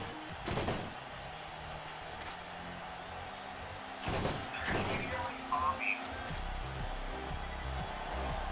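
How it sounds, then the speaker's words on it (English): Enemy gunfire in the video game Borderlands, with a few sharp bursts of shots, one early and a denser cluster midway, over a steady game background hum. "somebody's firing at me from over there"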